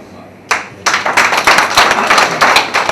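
A crowd at a district executive meeting breaks into clapping for a speaker that quickly builds into steady, dense applause, fairly close and loud.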